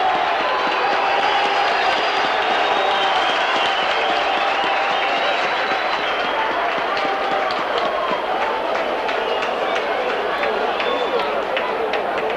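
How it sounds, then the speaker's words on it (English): Steady applause and crowd noise from the Widnes rugby league crowd rolls on for several seconds, a broad sustained clapping under a commentator's voice. "Gets a good round of applause from the Widnes crowd."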